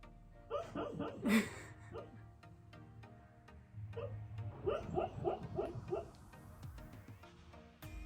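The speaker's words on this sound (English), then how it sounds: "This is him barking in his sleep." A sleeping dog lets out soft, muffled yips and whimpering woofs in short clusters, with quiet pauses between, close by and fairly faint.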